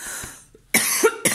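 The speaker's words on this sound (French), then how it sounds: "Excusez-moi, je tousse beaucoup en ce moment." A person coughs twice in a quiet room, two short, close harsh bursts about half a second apart, the second followed by a brief catch, with a faint rustle before them and no talk.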